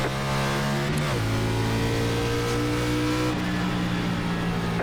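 A pack of NASCAR Xfinity cars in iRacing at Iowa Speedway accelerating off the green flag, engines revving loud and close with gear changes stepping the pitch up and down.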